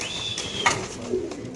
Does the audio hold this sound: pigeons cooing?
yes